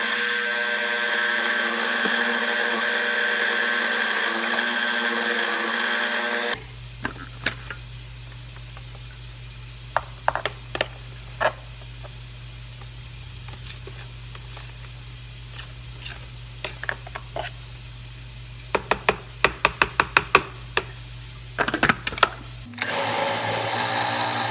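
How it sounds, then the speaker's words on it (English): A kitchen blender whirs steadily, blending a black bean burger mixture with added spices; the motor runs loud and continuous for about sixteen seconds with scattered clicks and knocks, framed by different louder sounds before and after. "you put your spices in there and we're going to blend this again"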